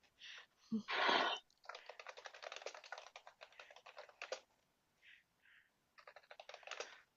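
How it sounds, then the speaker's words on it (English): Fingers type a title on a computer keyboard in quick bursts of close, crisp key clicks with short pauses between runs, and a brief voice or rustle near the start. "I got to type in a title and stuff"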